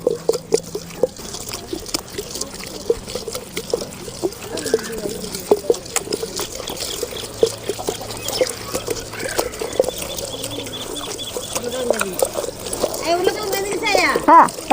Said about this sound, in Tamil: அந்த தட்டில் எடுத்து வச்ச தண்ணி வடிக்கிட்டு